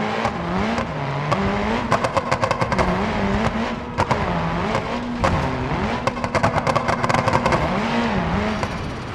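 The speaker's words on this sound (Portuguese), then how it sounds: "Você já teve a curiosidade de saber como seria dirigir um carro em outros planetas?" A car in a driving video game revs loudly and continuously, its engine pitch rising and dropping through repeated gear shifts, with scattered clicks and squeals throughout.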